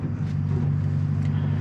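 A 2024 Toyota Land Cruiser creeping uphill off-road in crawl control, its engine a loud, steady low drone close by with faint clicks and creaks over the top, lasting under two seconds.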